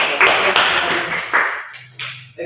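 A classroom group claps for a student team, with a burst of applause that thins out into a few scattered claps and taps near the end.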